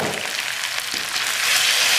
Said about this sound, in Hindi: फिर इसको अच्छी तरह हम भून लेंगे